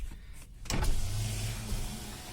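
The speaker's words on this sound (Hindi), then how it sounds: "अब मैं इसको 1 टच करूँगा तो शीशा आप देख सकते हैं ऊपर गया" The power window of a 2009 Wagon R closes on a single one-touch press, a steady whirring motor hum starting with a click and running continuously, close by inside the car.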